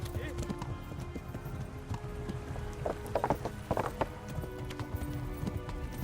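Horse hooves clop at a riding pace in the video game Kingdom Come Deliverance, mixed with faint rattling tack and low background noise.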